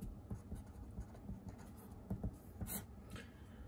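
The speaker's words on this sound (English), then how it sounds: "So let me write it down over here." Pen scratching out handwriting on paper, short quick strokes with small taps and pauses, close and fairly quiet, no talking over it.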